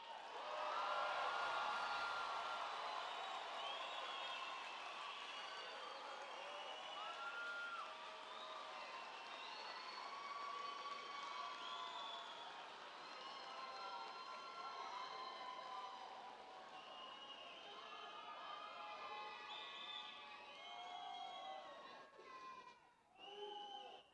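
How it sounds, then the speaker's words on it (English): A large commencement audience claps, cheers and whoops for graduates, a dense sustained roar of applause with scattered shouts and chatter throughout, swelling and easing over time. "Their success, coupled with your pride, certainly calls for applause. I say a strong ovation. Whoop if you like."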